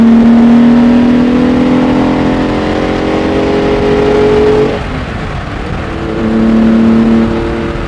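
A 1975 Ferrari 365 GT4 2+2 engine revs up hard in third gear and climbs in pitch, drops briefly at a gear change, then pulls up again, loud and close.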